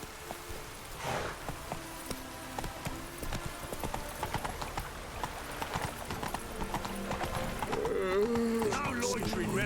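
A horse gallops in the video game The Witcher 3, its hooves clip-clopping in a quick, steady rhythm over continuous game ambience, with tonal game sounds rising near the end.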